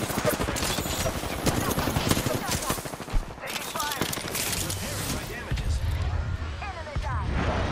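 Dense automatic gunfire and rapid shots in Apex Legends, loud and near, with bursts running almost continuously, quick clattering, mechanical sounds and brief voices mixed in.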